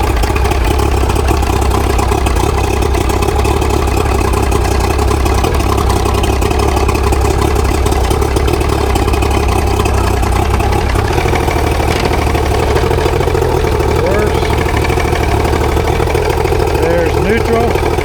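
A Mercury 90HP outboard motor idles steadily with a continuous low rumble, loud and close throughout with no pauses.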